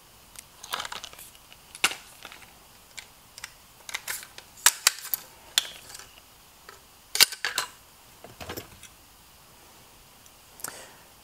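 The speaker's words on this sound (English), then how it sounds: "I'm just going to quickly take this bolt carrier out and show you" Rifle bolt carrier group, a low mass operating system carrier from JP, being pulled from a 3-gun rifle: a string of sharp metallic clicks, snaps and ticks, close and irregular, with quiet gaps between and no talking.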